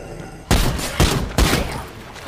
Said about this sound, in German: Hört doch auf zu schießen